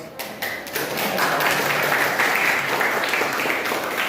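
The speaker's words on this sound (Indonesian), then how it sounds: "aplaus." A classroom audience applauding after a group presentation, dense sustained clapping that swells quickly and holds steady for several seconds, heard nearby.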